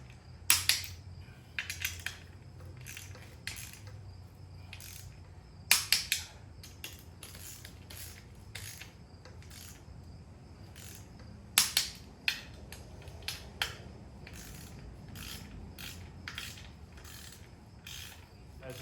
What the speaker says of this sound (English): bell housing bolts to the motor are 35 foot-pounds. So let's tighten all these down.